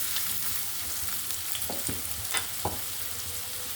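Onions hit hot oil for a catla fish bhuna, producing a loud, continuous close-up sizzle with a few soft scraping stirs.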